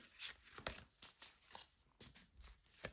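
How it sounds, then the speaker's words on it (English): Tarot cards being shuffled by hand, a close run of quick papery riffles and slaps in uneven bursts, fairly quiet with no talking over it. "Okay, we're going to keep shuffling."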